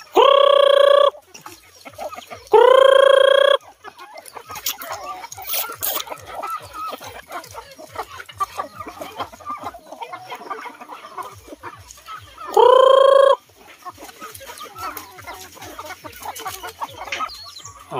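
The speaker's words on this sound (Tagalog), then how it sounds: "Diyan nagkatira yung mga manok na alaga namin." Chickens cluck in short bursts with louder calls standing out over a steady background of clucks and chatter, fairly close by.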